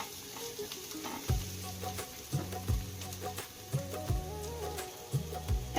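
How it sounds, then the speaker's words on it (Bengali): Green chilli, garlic and ginger spice paste fries in a pan for pomfret jhal, giving a steady close sizzle broken by repeated low scraping stirs about once a second. "মশলাটা একটু ভাজা ভাজা হয়ে গেছে"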